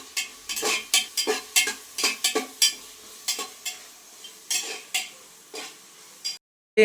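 Tomatoes sautéing in a hot pan for biryani, with a run of sharp, close scraping stirs over a soft sizzle, roughly a dozen strokes in uneven rhythm before a brief cutoff.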